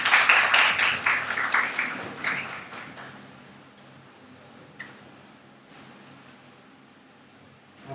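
A church congregation applauds, the clapping loud and dense at first, then thinning out and fading after a few seconds into quiet room noise with a stray tap.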